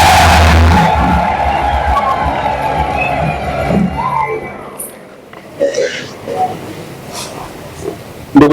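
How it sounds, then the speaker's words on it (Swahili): A congregation at a Christmas mass ululates and claps in a loud burst that fades after a few seconds, followed by quieter scattered sounds in the church. "Basi vigelegele na makofi ya Yesu"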